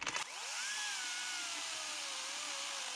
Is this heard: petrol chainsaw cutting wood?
yes